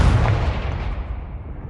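A Confringo fire spell bursts in Hogwarts Legacy, a loud close explosive boom that decays into a rumbling tail before cutting off.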